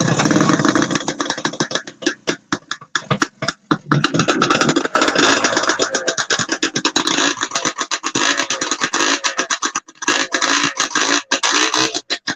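A vintage snowmobile engine idles at an outdoor snowmobile show in Newport Center, Vermont, loud and close. Its buzzy, raspy two-stroke chatter runs steadily the whole time, sputtering and stuttering in places, with no talk over it.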